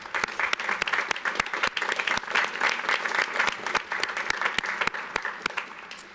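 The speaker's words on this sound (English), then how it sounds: "So please join me in thanking them with a round of applause." A large commencement crowd at the University of Virginia law school applauds steadily for about six seconds, dense sustained clapping from a big audience filling a hall, with no speech over it.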